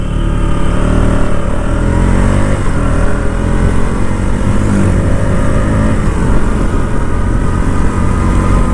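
A KTM Duke 200 BS6 motorcycle engine running steadily and loudly throughout, a continuous close rumble with slight shifts in pitch and no talking.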